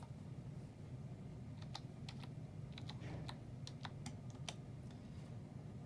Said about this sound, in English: you're going to type, his password is just his first name, Jack, and then F initial